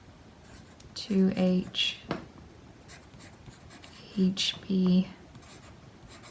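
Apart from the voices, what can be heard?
pencil writing on paper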